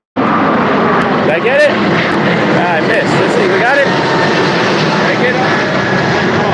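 Propeller airplane droning overhead, a steady loud engine hum filling the whole stretch while people talk excitedly over it.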